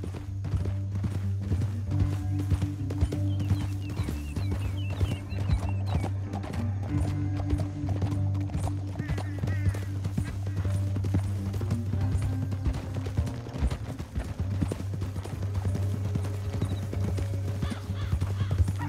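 Rapid clip-clopping hooves of galloping horses in Red Dead Redemption 2, loud and continuous over a low droning game soundtrack, with an occasional whinny.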